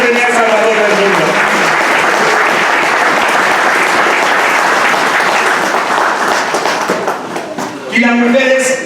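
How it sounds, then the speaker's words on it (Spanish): A church congregation breaks into loud, sustained applause, close and dense, with a preacher's voice heard briefly at the start and end. "Den un aplauso al Cordero"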